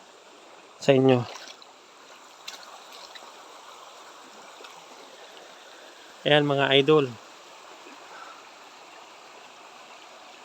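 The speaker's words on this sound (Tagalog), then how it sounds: "Ang bumubuhos ditong tubig para sa maliit na tubig na to, puro kalawang." A small mountain stream in the Sierra Madre near Nakar, Quezon, flows as a faint, steady trickling wash in the background, while someone speaks briefly twice over it.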